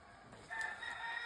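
A Whitehackle Muff rooster crows once, a faint, drawn-out call heard from some distance against quiet surroundings.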